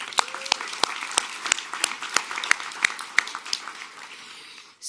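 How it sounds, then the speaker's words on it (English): An audience at a ribbon-cutting and grand opening ceremony applauds, with a dense wash of clapping under sharp, evenly spaced loud claps for about five seconds before it cuts off. "So round of applause for you."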